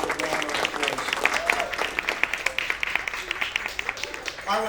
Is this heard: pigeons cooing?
no